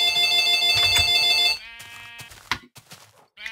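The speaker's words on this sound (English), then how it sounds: "And I'm getting a phone call." A phone rings loudly during a Minecraft session, a steady electronic ringtone filling the first moments before cutting off, followed by quieter scattered game sounds.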